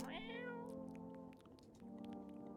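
A cat in the video game Who Is Human lets out one short, quiet meow when petted, followed by a soft, steady tonal hum.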